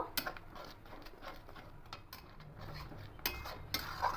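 A spoon clinks and scrapes in a pan while milk, jaggery and grated coconut are stirred together for coconut sandesh, faint close ticking taps recurring irregularly over a quiet background.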